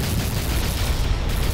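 Loud weapon fire and explosions from the underwater shooter Aquanox, a steady roar of blasts and bursts with rough low rumble and crackling grit, sustained without pause.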